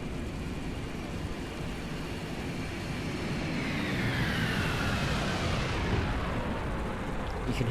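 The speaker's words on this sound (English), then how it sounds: "You can hear the planes when they're coming and going." Aircraft engines in the War Thunder video game roar past over a constant low rumble of battle noise, rising as a plane approaches and sweeping away, steady and loud.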